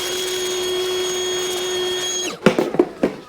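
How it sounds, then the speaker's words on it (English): A vacuum cleaner drones steadily with a high whine while cleaning the top of a 2005-2008 Honda Pilot engine before valve cover removal, then winds down and stops, followed by a few clattering knocks. "And we'll just vacuum this really good first"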